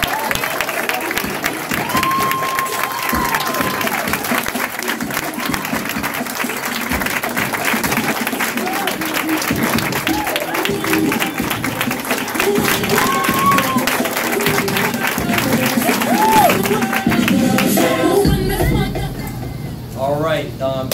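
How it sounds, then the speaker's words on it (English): An audience applauds at a Saturday training event, with dense clapping and crowd noise under music carrying steadily throughout. "Let's give a huge round of applause"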